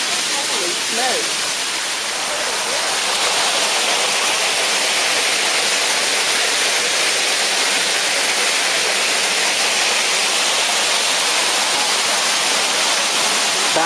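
A waterfall on Lookout Mountain, Tennessee, rushes as a steady, loud, close wash of broadband noise that holds unchanged for the whole stretch.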